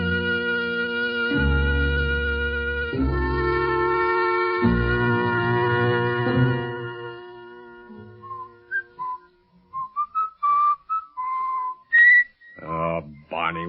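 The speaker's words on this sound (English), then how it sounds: "would you mind stopping that eternal whistling of yours?" A man whistles a slow tune in a jail cell, clear sustained notes over low background music, then shorter separate phrases later on, close and fairly loud.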